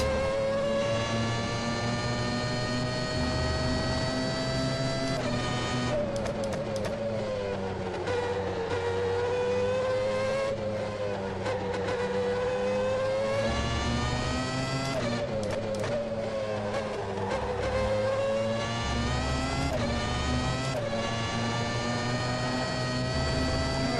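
A McLaren MP4/13 Formula One car in rFactor 2 roars continuously at high revs, its loud engine note rising through the gears with brief dips at each shift and deceleration, alone without talk.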